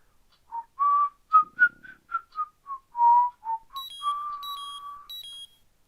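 A person whistles a short western theme melody in a string of clear wavering notes with a longer held tone near the end, quiet and close; faint high electronic beeps overlap the last few notes.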